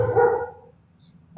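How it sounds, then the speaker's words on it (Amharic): A dog barks once loudly nearby in the background, then goes quiet before a second bark starts at the very end. "ውሻ ከኋላ እየጮኸ ነው።"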